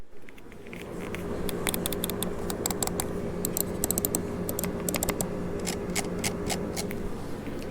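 A Zowie EC2 gaming mouse clicks repeatedly in close, crisp bursts of sharp ticks, some rapid and clustered, over a soft steady background hum.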